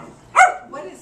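A single dog bark, short and sharp at close range, with faint talk-like sounds after it.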